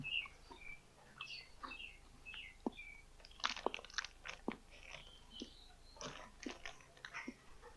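Chicken eaten with dipping sauce is chewed close up in soft, wet crunchy bites repeating irregularly, while birds chirp faintly in the background.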